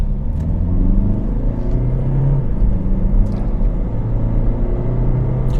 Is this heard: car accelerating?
yes